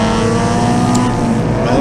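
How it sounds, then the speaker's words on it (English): An MG MGB Group S spec race car on the Winton circuit gives a loud, close, steady engine drone that holds throughout. "campaigning this little MGB Group S spec car"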